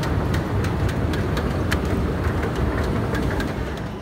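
London Underground metro train running, a steady broadband rumble with rattling and periodic clicks of wheels over rail joints, continuous and fairly loud throughout.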